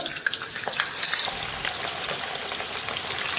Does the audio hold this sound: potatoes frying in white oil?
yes